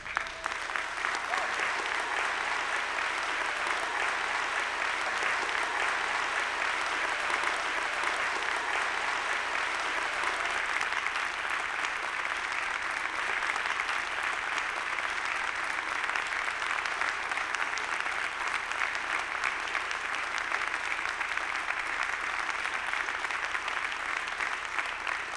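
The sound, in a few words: audience applause for Dean's List students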